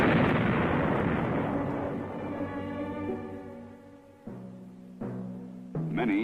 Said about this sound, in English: The mine itself should be destroyed in the same way pressure-type mines are blown.